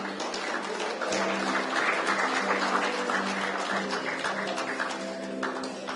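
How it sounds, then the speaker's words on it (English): Audience at a FADA Delhi event applauding dignitaries as they light the ceremonial lamp, a sustained even round of clapping from a moderately distant crowd. "let's give the dignitaries a big round of applause, ladies and gentlemen, once again."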